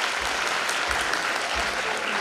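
Audience applause fills a school Teachers' Day program at an Anatolian high school, a steady dense clapping crowd throughout, fairly loud and close, with no speech over it.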